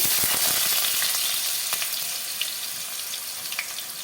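Cut potatoes with cumin seeds frying in hot mustard oil in a wok, a steady dense sizzle with a few sharp crackles, close and continuous, gradually easing slightly.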